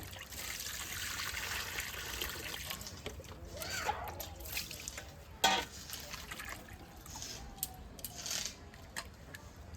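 Fish being rinsed with hot water in a home kitchen, a quiet trickle and splash of running water with occasional handling clatter, soft and fairly close.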